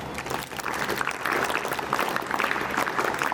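A school audience at an investiture ceremony gives a sustained round of applause, many hands clapping in a thick, continuous wash that swells slightly and holds steady, with no speech on top.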